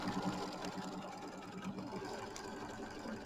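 An embroidery machine stitches a tack-down line around foam on a Kimberbell mini quilt block, a rapid, steady mechanical whir and needle patter running without pause.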